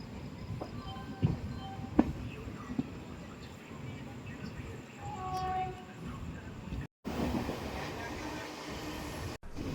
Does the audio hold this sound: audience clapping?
no